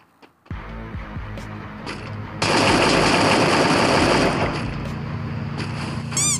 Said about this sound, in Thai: หนูทดลอง AK ทองของเรา